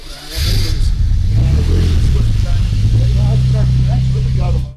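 A Bugatti quad-turbo engine cranks and fires up, settling into a loud, deep, steady idle close by, with a person talking over it.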